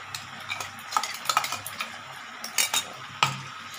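Chicken curry with onions being stirred in a sizzling pan: a spoon scrapes and clinks against the metal in irregular bursts over a soft, steady frying hiss, close up and with no talking.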